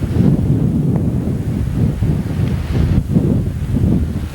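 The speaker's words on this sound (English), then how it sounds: "It is a very windy day" Strong wind buffets the microphone on a windy day beside the Dole pineapple plant, producing a loud, continuous low rumble with gusty surges and no speech.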